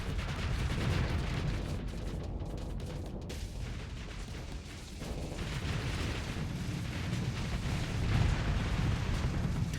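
Torpedoes striking ships in a Starsector space battle, a dense roar of muffled explosions and impacts rolling on continuously at moderate loudness, with heavier booms swelling near the end.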